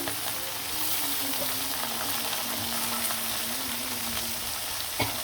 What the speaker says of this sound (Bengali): আমি তেল বসাই দিলাম আর মাছগুলার এক এক করে দিয়ে দিব মাছগুলা ভেজে নিব